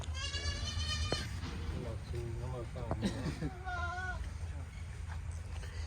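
Several goats bleat with wavering, nasal cries over a busy goat market din of murmuring voices and general crowd noise.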